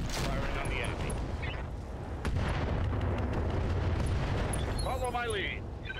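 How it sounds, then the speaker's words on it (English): Mech weapons firing in Battletech, a sustained roar of cannon and missile fire with a heavy booming bed, loud throughout, with a synthetic chirping tone near the end. "Firing on the enemy."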